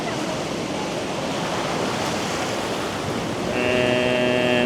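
Ocean waves wash steadily onto the shore in a broad, continuous roar, fairly close, and a faint tonal hum enters near the end.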